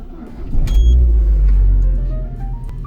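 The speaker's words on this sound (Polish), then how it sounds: "Odpalę silnik." A Citroën Xsara Picasso engine starts up, its deep, loud rumble swelling in about half a second and then settling into a steady idle close by, with no talking.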